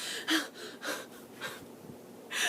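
A voice imitates a mother panting after a run: quiet, breathy gasps in a steady rhythm of about five heavy breaths over a few seconds, close and without words.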